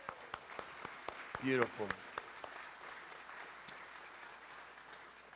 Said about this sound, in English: I want to give them a round of applause real quick for all the work that they have done.